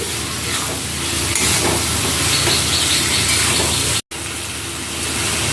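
Chicken for butter chicken sizzles in a hot pan with cooked-down spices. A loud, steady hiss of frying continues throughout with one very brief break, and no one talks.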